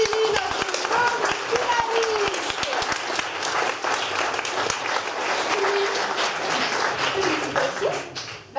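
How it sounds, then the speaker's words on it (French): A comedy show audience applauds loudly for the winner, dense sustained clapping with brief voices underneath, filling the whole stretch before tapering at the end. "Bravo, on peut applaudir Kimi, notre grande"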